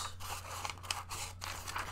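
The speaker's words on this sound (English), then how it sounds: "scissors" Quiet snipping and scraping of scissors cutting paper, a few crisp cuts close by against a low steady hum.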